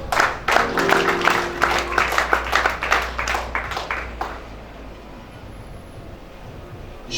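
An audience at a church conference in Libreville claps in a dense, rapid burst that gradually thins and fades over several seconds into quiet room tone.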